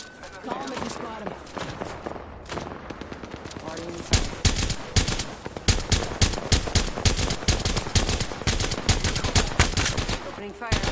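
Rapid automatic gunfire from the battle royale shooter Apex Legends, dense bursts and repeated shots hammering continuously and loudly throughout, with in-game voice callouts mixed beneath.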